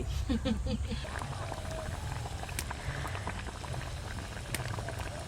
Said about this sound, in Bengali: ঝোল ভালো করে ফুটে গেল